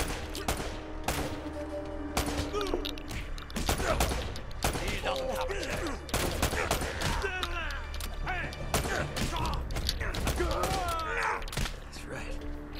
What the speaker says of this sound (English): The minigun guy and grenade launcher guy